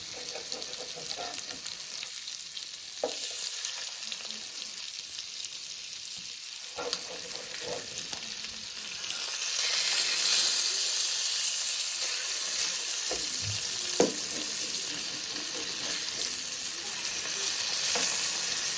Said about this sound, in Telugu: ఈ రకంగా తిప్పుకోవాలండి, బాగా ఫ్రై చేసుకోవాలి.